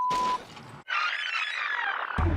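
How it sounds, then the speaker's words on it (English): A dark sedan clips the rear wheel of a black SUV in traffic: a sharp shattering crack, then a sustained grinding, scraping screech, ending in another loud hit. "The driver of the dark sedan misjudges the space between two cars and clips the rear wheel of the black SUV."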